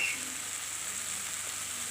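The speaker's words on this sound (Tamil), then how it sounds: "நம்ம பிரியாணி மசாலா போட்டு நல்லா வதக்கியாச்சு" Biryani masala sautés in a pan for a millet tomato rice, giving a faint, steady frying hiss with no break.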